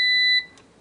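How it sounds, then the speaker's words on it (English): A single sustained electronic beep from a Kalorik 8-quart touchscreen air fryer cuts off abruptly, leaving a quiet room. "Sorry about that beeping."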